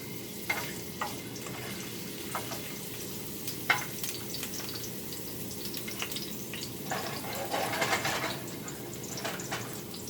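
Garlic sautéing in oil in a clay pot for pancit gisado: a soft, steady sizzle underneath repeated sharp clinks and scrapes of a utensil stirring, with a busier burst of crackling near the end.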